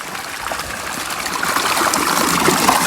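Irrigation water runs from a tank into a wheat field, a steady broadband rush and trickle that grows slightly louder over a few seconds, heard alone without any talk.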